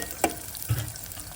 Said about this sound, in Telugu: ఫస్ట్ అయితే ఉల్లిగడ్డలు వేసుకుందాం. ఇలా ఒక 2 నిమిషాలు ఉడికినాక